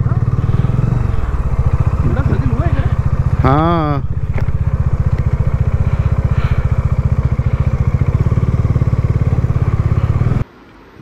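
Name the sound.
motorcycle being received and handled at transport depot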